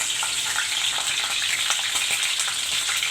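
Green chillies fry in oil in a pot, a dense, loud, continuous bright sizzle with crackling spatter throughout, close and unbroken.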